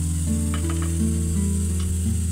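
Ghee sizzles steadily in a pan while payasam is being made, after sago was fried and removed, with a few faint scrapes of stirring over the continuous frying hiss.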